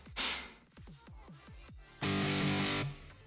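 Palm-muted guitar chords from a software instrument in a pop punk beat, a short bright burst followed by a series of quick chugging hits, then a sustained loud chord held for under a second before cutting off.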